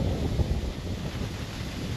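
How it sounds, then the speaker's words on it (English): Wind gusting outdoors during a 2016 Honda Civic replacement job, a low rumbling buffet against the microphone that holds steady and fairly faint for two seconds, with no voices. "it's pretty windy here"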